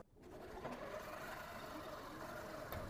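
Sewing machine stitching a trapunto quilt, with a steady continuous mechanical whir and rapid needle chatter running close and alone for the whole span.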